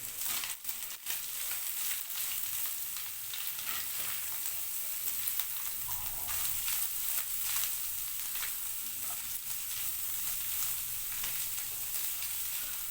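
Carrots and vegetables sizzle steadily in a pan, a dense, even frying hiss holding at a constant level with faint stirring scrapes and no voices.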